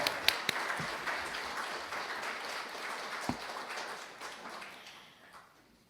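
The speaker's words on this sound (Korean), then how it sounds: "큰 박수로 축하를 전해주십시오" An audience at a rural award ceremony in Korea applauds a prize winner, a soft, distant patter of clapping with a few sharper claps up close, slowly fading away toward the end.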